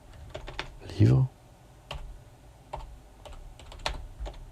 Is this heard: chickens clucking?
no